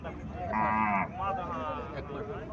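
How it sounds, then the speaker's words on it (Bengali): A Haryana cow lets out a single loud, close moo lasting about half a second, followed by softer lowing and farmyard background noise. "এখানে একটা গাবি দেখা যাইতেছে"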